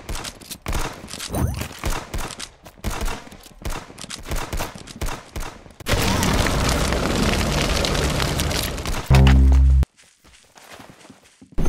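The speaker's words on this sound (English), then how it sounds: "That's some beautiful shooting right there." Gunfire from the Roblox shooter game Arsenal: scattered footstep-like clicks and taps give way to a dense, sustained burst of rapid shots in the middle, then a short loud thump and quieter game sounds.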